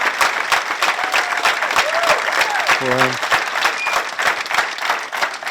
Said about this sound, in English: He really deserves all the applause.